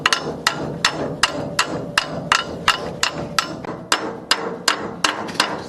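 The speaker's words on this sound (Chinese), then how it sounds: "拿小锤子一点点磕的呢" A small hammer taps metal parts during a repair on a tractor, about fourteen sharp ringing strikes in a steady, even rhythm, close and loud over faint background noise, no speech.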